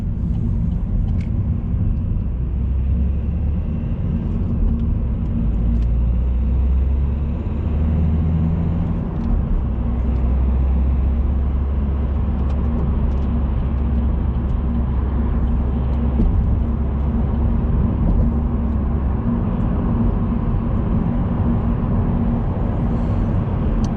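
A 2017 Vauxhall Astra K 1.6 CDTI Sports Tourer diesel pulls along in second gear, its engine a steady low drone under constant road rumble and cabin hum, with no voices.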